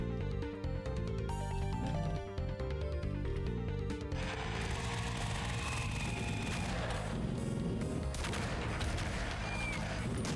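Weapon fire in a Doom mod played on Ultraviolence, rapid shots rattling over a loud, dense music track with no voices, continuous throughout.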